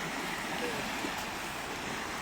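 Sea waves wash steadily against the shore of an uninhabited island, a continuous, even rush of surf with no distinct breaks, filling the whole moment at a moderate level.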